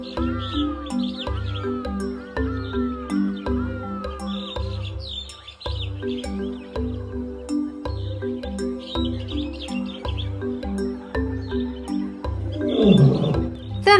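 Lion at a zoo: repeated deep rhythmic grunting pulses roll steadily throughout, loud and close, with bird chirps in the background and a louder roaring burst near the end.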